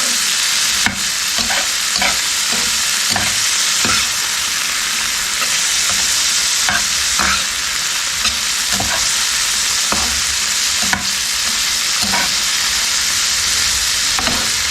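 Garlic fries in a pan with a constant loud hiss of sizzling oil, punctuated by regular scraping and tapping of a utensil stirring, close up and without voices.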